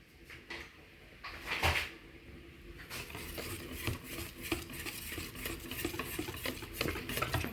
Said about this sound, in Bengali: ভালো করে মিক্স করতে দেবো যেন চাকা টাকা না থাকে